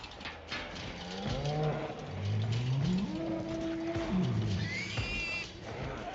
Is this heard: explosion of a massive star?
no